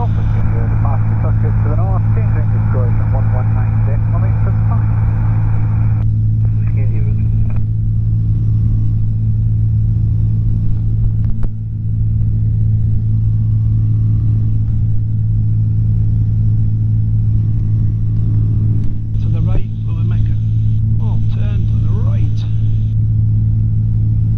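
A microlight aircraft engine drones loud and steady during the climb out after takeoff near Perth, Scotland, a constant low rumble filling the whole stretch with little change in pitch.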